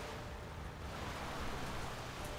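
Rain falls in the strategy game Anno 1701 as a faint, even hiss of steady downpour with no other sounds over it.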